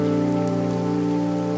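Steady rain falls on a samosa seller's street cart as a cartoon sound effect, an even close wash of drops held at one loud level without talk.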